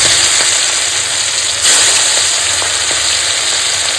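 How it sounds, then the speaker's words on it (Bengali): Katla fish frying in oil left over from frying potatoes, a steady, close, loud sizzle with a brief surge of hiss partway through and no voices. "ওই আলু ভাজা তেলেই আমি এই দেখো কাতলা মাছগুলো সুন্দর করে ভাজবো"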